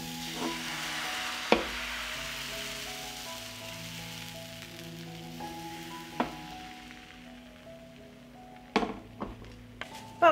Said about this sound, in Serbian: Prvo ću podmazati malo tiganj i na isti način pečem dalje palačinke.